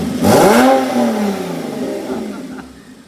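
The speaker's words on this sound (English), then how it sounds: "What do you think of my exhaust, Mike?" A Porsche Cayman engine revs up loudly through its exhaust, its pitch rising sharply then settling into a lower, fading drone; a voice may be faintly mixed in.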